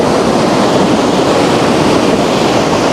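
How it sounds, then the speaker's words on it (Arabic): Steady, loud broadband rush of a natural waterfall in Chefchaouen, continuous and close with no pauses or voices. "عين الشلال ده."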